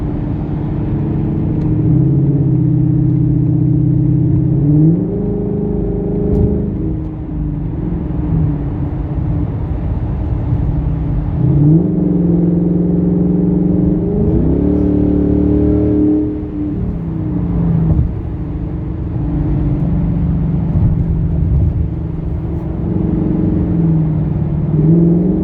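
A 2019 Ford Mustang GT V8 pulling hard from highway speed, its engine note climbing through repeated rising sweeps with gear changes between them, loud and close from inside the cabin, with no talking.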